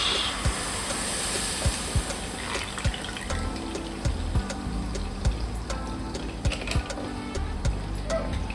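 A cooking pan of creme fraiche coming up to a boil for spaghetti with cream, giving a steady close hiss and bubbling with light regular clicks and taps throughout, no talking.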